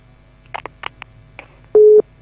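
A telephone line after a caller disconnects on a radio call-in show, with a few short faint clicks and noises, then a loud single steady tone lasting about a quarter second.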